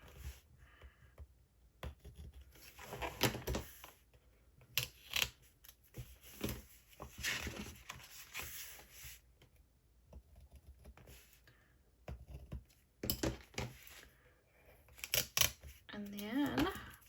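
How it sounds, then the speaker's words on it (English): Scissors snipping through washi tape on a paper planner, a string of short crisp cuts and rustles close by, with a soft voice speaking in between. "I'm going to use my scissors to cut along the washi tapes"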